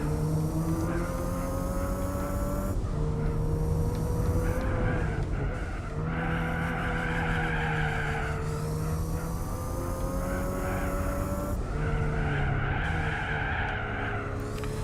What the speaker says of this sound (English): the sports tyres, you can hear them letting go as they're halfway through the corner